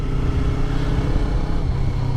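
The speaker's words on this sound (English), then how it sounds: "So when you start to hear the engine scream like that" Yamaha R3 motorcycle engine revving hard at high rpm before an upshift, a loud, steady, strained whine held close and continuous for the full stretch without talk.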